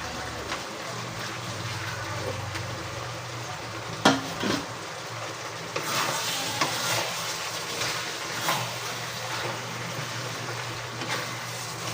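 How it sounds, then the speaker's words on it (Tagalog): Chicken pieces lightly frying in a pan for Chicken Bicol Express, a continuous close sizzle with occasional sharp clinks of a spatula or utensil against the pan. "Yung pong chicken, medyo ipinirito natin ng konti."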